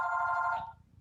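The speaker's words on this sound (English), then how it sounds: "Just then the phone rang." A telephone rings once, a single clear electronic tone sustained for most of a second before cutting off, moderately loud indoors with no talk over it.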